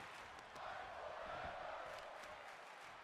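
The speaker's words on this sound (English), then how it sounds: "Crowd wanting them to fight forever." A wrestling crowd chants for two wrestlers during a main event match, a faint, distant, continuous roar of many voices with a slight swell in the middle.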